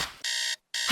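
Electronic alarm clock ringing in loud, steady bursts, one sustained tone cut off by a short gap before sounding again, with no voices.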